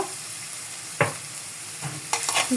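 Carrots frying in oil while ginger paste is added and stirred in, making a soft continuous sizzle with a few sharp scraping clatters and no voice.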